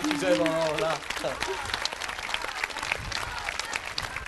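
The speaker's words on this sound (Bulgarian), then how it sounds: "Аплодисменти." Audience at a Bulgarian televised dance competition show applauding, a steady wash of clapping that carries on evenly after a host speaks briefly at the start.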